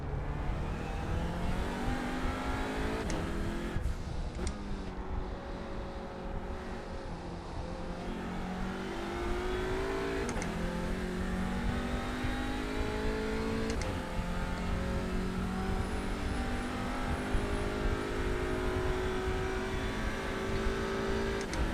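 An Audi RS 3 TCR race car in iRacing at Silverstone Historic howls close and loud, its engine note climbing through gears in repeated rising sweeps, with a brief lift and downshift early on.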